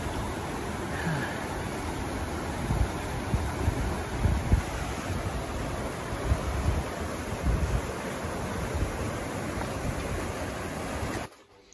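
Snowmelt water rushes down a mountainside in Rondane National Park, Norway, near a small hut: a steady, loud broadband roar with gusty wind buffeting the microphone, cutting off abruptly at the end.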